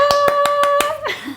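Five sharp claps in an even rhythm over a steady tone, followed by a short voiced sound at the end.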